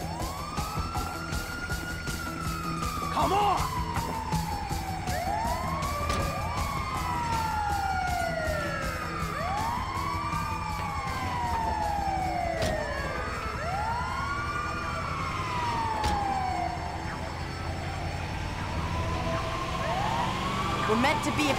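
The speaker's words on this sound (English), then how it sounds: "Oh, it's the ambulance!" Ambulance siren from the Grand Theft Auto 5 video game wails in repeated rising and falling sweeps, loud and steady throughout, with a brief shouted voice and game action underneath.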